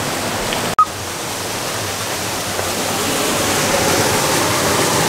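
River water rushing steadily over an abandoned concrete dam, a continuous broadband roar that holds even and loud throughout, with one brief thump near the start.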